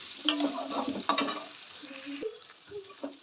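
Masala gravy with tomatoes and potatoes frying in a pan, soft sizzling with a few stirring scrapes and clinks, fairly quiet and close, with no voices.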